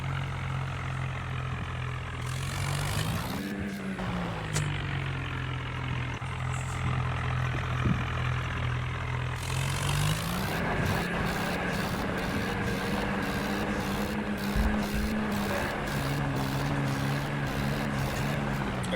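A tractor engine drones loud and steady while driving off-road, its low rumble rising and falling as the revs shift, with rattling and clanking from the machine layered over it throughout.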